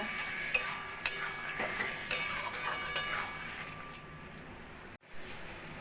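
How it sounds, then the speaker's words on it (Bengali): A spoon stirs a spoonful of ghee through chicken keema in a pan, giving close, irregular scraping and clinking strokes over a faint sizzle, with a brief silent gap near the end. "দিয়ে দেবো এক চামচ মতো ঘি ঘিটাও ভালো করে মিশিয়ে নেব"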